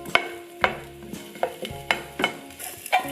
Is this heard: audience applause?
no